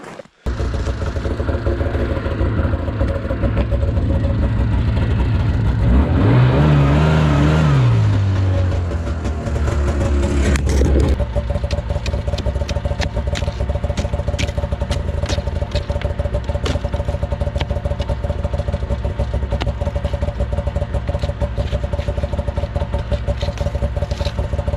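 A snowmobile with its track frozen from slush and soft snow is started on a frozen lake at 4 degrees, a loud steady engine drone with a rising and falling rev partway through, then continuous idling.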